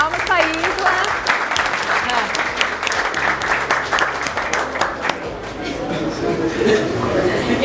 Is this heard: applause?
yes